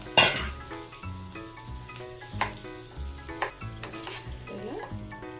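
Tempering mixture sizzling as it is poured into a chutney, a sharp crackling burst at the start that settles into a steady hiss with occasional pops and stirring clinks, with no speech.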